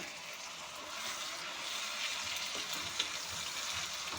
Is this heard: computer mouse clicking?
no